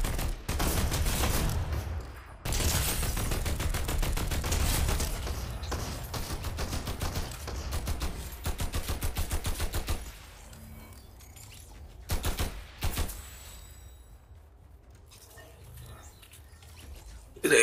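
Rapid automatic gunfire from a gun in Fortnite Zero Build, long rattling bursts at close range, then a pause and shorter bursts, with occasional talk.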